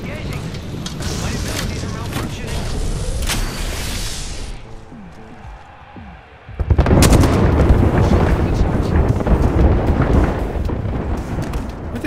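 Bombardment in Apex Legends on Xbox One: heavy, rumbling explosions that swell, drop away into a brief lull, then crash back in loud and dense, with a player talking over them.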